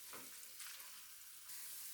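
Minced meat for karnıyarık filling sizzles steadily in a pan, a constant hiss broken by soft scraping bursts as it is stirred, with no talking.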